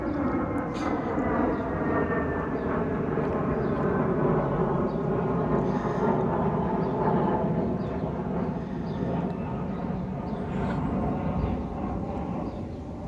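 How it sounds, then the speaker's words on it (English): A large airplane passes high over a vegetable allotment, a steady, distant, broad rumble that holds for the whole stretch at moderate loudness without fading. "there's a big plane going over"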